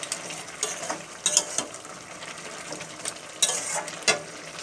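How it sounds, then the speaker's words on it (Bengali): Fish head and malabar spinach curry cooking in a pan, with a soft continuous bubbling sizzle broken by several brief louder stirring scrapes, close and moderately quiet, with no talk. "ভালোভাবে কিন্তু আমার তরকারিটা ফোটা শুরু করে দিয়েছে"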